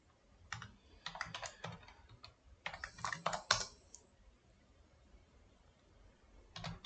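Code being typed on a computer keyboard at a desk, with quick bursts of close, crisp key clicks separated by short pauses, quiet and with no one speaking.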